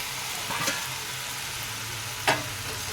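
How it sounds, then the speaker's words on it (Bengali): Pre-fried potatoes and pointed gourd sizzle steadily in spice paste in a pan, with two sharp clatters as the vegetables are tipped in or stirred, and no talking. "এবার আমি ভেজে রাখা আলু পটলগুলো দিয়ে দেব"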